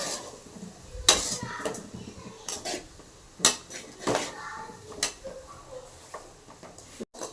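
Coriander is stirred into cabbage fry in a pan, with a spoon scraping and clinking against the metal in sharp irregular knocks over a soft background of cooking noise.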